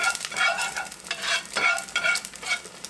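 Eggs fry in a ScanPan nonstick pan with a steady, bright crackling sizzle that swells and fades slightly in waves throughout, close up and with no talking.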